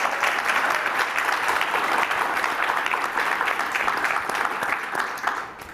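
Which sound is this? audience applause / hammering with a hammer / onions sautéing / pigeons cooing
audience applause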